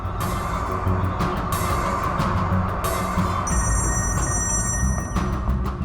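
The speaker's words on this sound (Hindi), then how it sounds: "ये फोन भी नहीं उठा रहे हैं।" A phone rings repeatedly in loud bursts over a steady background rumble of engine noise, with no one picking up.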